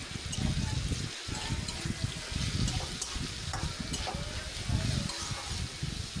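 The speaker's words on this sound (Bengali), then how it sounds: "আলু বেগুনকে নেড়ে চেড়ে একটু হালকা ব্রাউন কালার করে আমি ভেজে নিচ্ছি" Potatoes and eggplant pieces sizzle and fry in a wok while being stirred, a steady crackling hiss with scraping stir strokes running throughout at close range.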